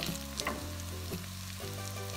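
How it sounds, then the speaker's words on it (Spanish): Chili flakes and garlic fry in a pan for garlic-and-lemon potatoes, being stirred together; a soft, steady sizzle runs throughout beneath a sustained tonal background, with a few faint scraping touches. "cuando veamos que ya las hojuelas de chile y el ajo ya tienen un color doradito, vamos a mezclar todo muy bien"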